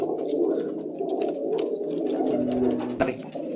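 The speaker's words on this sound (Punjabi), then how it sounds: "ਕਈ ਵੱਡੇ ਕਬੂਤਰ ਕਬੂਤਰੀਆਂ ਤੋੜ ਰੱਖੇ ਨੇ" Several large pigeons of top breeds coo softly and repeatedly nearby, overlapping low warbling calls with a brief sharp click near the end.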